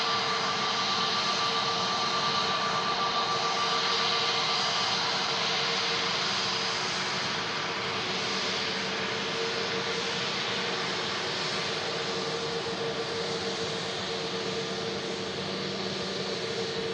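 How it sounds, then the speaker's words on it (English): A Pegasus Airbus A320neo lands at Manchester Airport on arrival from Istanbul, a loud, continuous jet roar with a faint whine laid over it that stays steady throughout, unaccompanied by voices. "Now Pegasus just in from Istanbul. Yeah, another Neo coming in."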